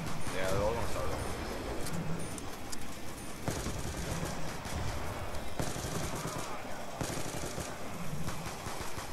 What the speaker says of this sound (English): Who's the one trying to use pistols?